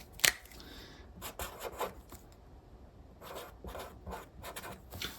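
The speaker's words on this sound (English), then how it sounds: "I write down the date." A marker writes a label on a plastic mushroom grow bag: short scratchy strokes in irregular bursts, close and fairly quiet, with brief gaps between words.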